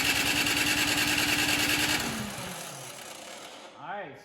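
A Troy-bilt snow blower, model 31AM6CP3, cranks over at half throttle with the choke on, a loud rapid mechanical chatter lasting about two seconds before winding down and failing to catch, followed by quieter rattling.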